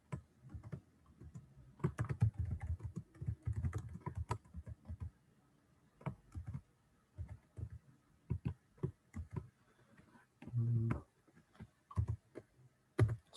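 Text being typed on a computer keyboard in a terminal editor: close, quiet bursts of key taps and clicks, irregular with pauses and occasional spacebar thumps, no talking.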